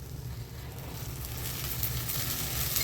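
Rava uttapam sizzles in oil on a pan, a dense, continuous close crackle and hiss that holds steady and grows slightly louder, with no voices.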